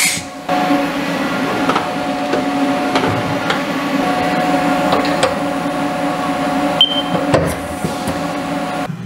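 Milling machine cutting the edge of an injection mold with coolant running, a steady machine hum and hiss with faint intermittent ticks and clicks, continuous and fairly loud.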